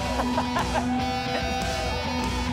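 A hen clucks in a rapid run of close, sharp, repeated calls, loud and alone, with a few drawn-out squawks in between.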